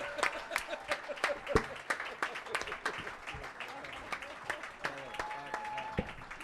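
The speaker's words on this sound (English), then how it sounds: "Round of applause for cancer, everybody!" Applause and scattered clapping from a roast battle audience, sharp individual claps standing out over a lively crowd, with voices and cheering mixed through.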